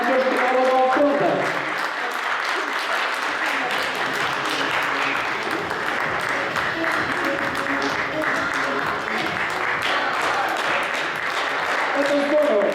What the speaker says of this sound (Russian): Громкие аплодисменты и громкие крики «Молодец» звучат.